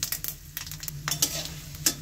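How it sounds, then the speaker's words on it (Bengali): Panch phoron spices frying in oil for a bitter gourd dish, a short burst of crackling sizzle with quick popping spatters and light utensil taps, close and without speech. "এখন সেই 5 ফোড়নটাও দিয়ে দিলাম।"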